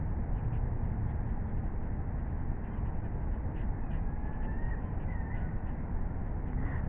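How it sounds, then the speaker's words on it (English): Crows caw several times at a distance over a steady background hiss, with no voices. "Might be the crows or whatever"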